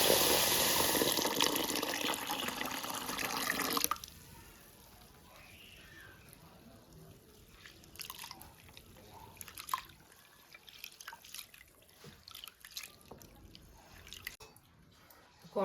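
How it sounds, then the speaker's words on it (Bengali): Moong dal being washed in water: a loud rush of running tap water for the first few seconds, then quieter scattered drips, splashes and wet handling of the lentils in a bowl. "ডালটা এবার ধুয়ে নেব।"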